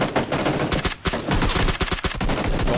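AK rifle gunfire in the PUBG battle royale game: loud, rapid automatic bursts with short breaks, dense and close, with no talk over them.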